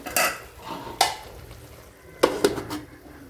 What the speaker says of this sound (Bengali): এখন ভালোভাবে একটু নাড়াচাড়া দিয়ে দিচ্ছি